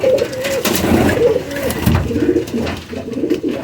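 Several prized Teddy pigeons coo close by in a loft, overlapping throaty rolling calls repeating throughout, with faint background noise.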